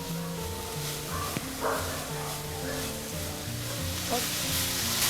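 A spiced grated radish stuffing, seasoned with red chilli powder, amchur, garam masala and salt, sizzles steadily in a pan as it is mixed, with a soft hiss under steady tonal background sounds and one faint knock.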